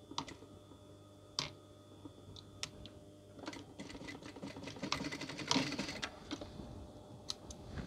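Sewing machine stitching along cushion piping on a decorative pillow, a quiet steady mechanical whir broken by sharp ticks and brief pauses as the fabric is turned, close and fairly soft throughout.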